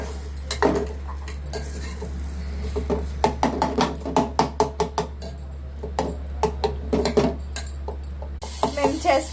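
A spoon stirs banana pieces in ghee in a pan, giving a close, steady run of sharp metallic clinks and scrapes in a quick rhythm, with a short pause near the end.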